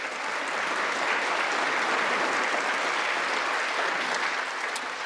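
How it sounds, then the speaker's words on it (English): Steady, dense applause from an audience, a continuous wash of clapping hands held at an even, moderate level with no voices standing out. "That's an applause line."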